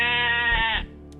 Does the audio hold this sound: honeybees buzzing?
no